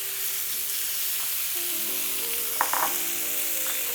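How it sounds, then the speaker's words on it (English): Thin-sliced ribeye fries in a little olive oil on a Steelmade flat top griddle over medium-high heat, a steady even sizzle with a couple of light clinks near the end. "And now the meat. Also on a medium-high heat, a little bit of olive oil. Sliced thin ribeye."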